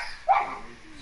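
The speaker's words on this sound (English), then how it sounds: "My dog's barking." A dog gives a single short yip or bark at a distance, heard over a quiet room during a Fortnite session with friends.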